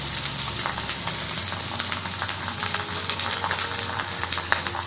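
Onions with curry leaves fry in a pan for egg gravy, giving a steady, continuous sizzle that stays close and constant with no voices.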